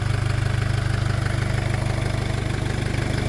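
A steady engine idles with an even, low rhythmic throb, close by and unchanging, with no voices.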